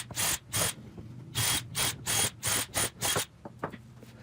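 A router cuts into the underside of a small wooden piece for a homemade wooden bar, in several short loud bursts of roughly equal length separated by brief pauses, with faint quieter noises trailing off at the end.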